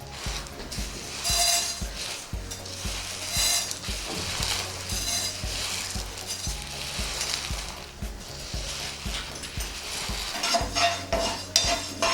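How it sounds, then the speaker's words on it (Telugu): Mustard seeds and fenugreek dry-frying in a pan, a busy close run of rattling, clinking stirs and scrapes of a spoon against metal, with a faint sizzle underneath and no talking. "ఇప్పుడు ఆవాలు మెంతులు కూడా కొంచెం లైట్గా ఫ్రై చేసుకోవాలి"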